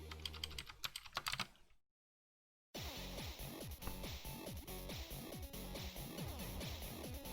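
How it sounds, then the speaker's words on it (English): Fingers type on a computer keyboard in bursts of rapid clicking keystrokes, close and steady, with a brief silent gap partway through. "Why am I typing this out by hand again?"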